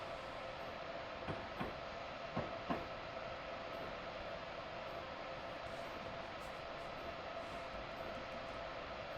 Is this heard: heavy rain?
no